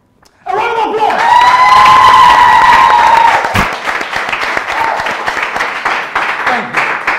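An audience at a quiz-show contest gives a round of applause with cheering and a few shouts, loud and dense at first, then thinning into scattered claps over several seconds.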